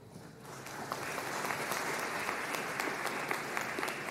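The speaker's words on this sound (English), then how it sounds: "you clap before I ever say a thing" Audience applause at a university nursing graduation ceremony, a dense steady clapping from a large crowd swelling up and sustained throughout.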